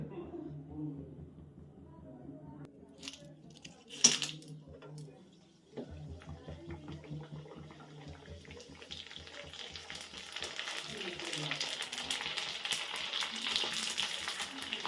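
Gupchup puris frying in hot oil in a home kitchen, a steady crackling sizzle that swells louder and brighter toward the end, with a sharp clatter partway through and talking underneath.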